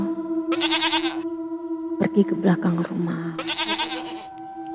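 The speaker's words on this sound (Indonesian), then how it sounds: "mencari-cari suara kambing itu" A goat bleats in two wavering, nasal bursts, clear and near, with a steady electronic hum underneath and a voice speaking between the calls.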